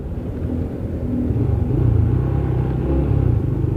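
A Yamaha Scorpio 225 motorcycle with a round tank, its engine heard while riding as a steady low rumble that swells slightly partway through, with no talk over it.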